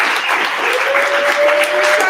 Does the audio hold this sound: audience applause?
yes